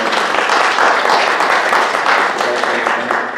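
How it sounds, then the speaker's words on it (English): An audience gives a steady round of applause for a recently re-elected senator at a recycling address, dense clapping close and loud throughout. "we're giving him a nice round of applause"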